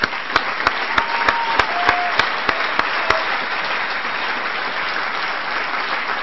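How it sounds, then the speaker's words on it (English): An audience gives a round of applause at the F1 in Schools World Finals awards celebration in Austin, Texas, a steady, full crowd clapping with a few sharper individual claps standing out near the start. "Round of applause to all of you."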